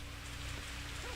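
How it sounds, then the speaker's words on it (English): Steady rain falls in the video game Pathologic 2, a continuous soft hiss of drops with no voices. "the rain is nice. The sound effects in this game are just very nice."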